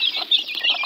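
A rooster clucking in quick, high, scratchy bursts, several short calls packed into under a second, fairly close and alone.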